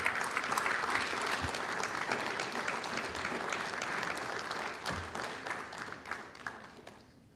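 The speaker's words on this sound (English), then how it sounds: "Let's give them another round of applause." A room full of people at a city council meeting claps warmly and continuously, the applause holding steady before gradually tapering off at the end.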